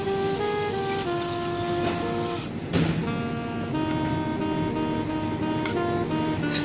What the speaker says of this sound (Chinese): 今天我们来焊一个保温杯。